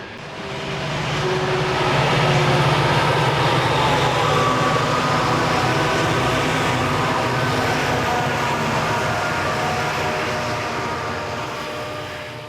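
B&O and C&O freight trains with mixed Seaboard Coast Line, B&O and Chessie helper units climbing steep grades, a loud, steady roar of diesel engines and rolling cars that swells in and fades slightly at the end.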